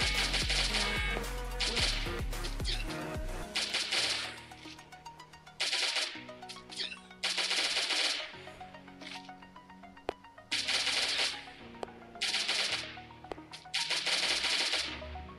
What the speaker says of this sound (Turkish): Şöyle böyle M16 ile çat çut ne güzel oluyor ya.